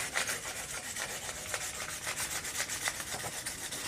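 Gemstone ring stone being sanded by hand on 360 grit sandpaper, a steady close rasping rub in quick back-and-forth strokes, continuous and fairly loud with no talking.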